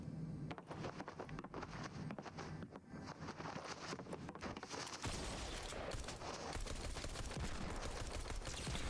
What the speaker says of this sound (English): That's why I was using a pistol here.